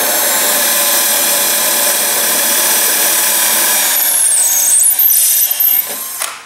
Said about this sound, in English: You want to drill through with a masonry bit.